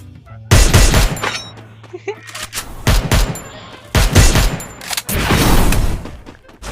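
Rapid gunfire from a video game shootout during a tournament match, loud bursts of shots that keep coming under excited talk from players.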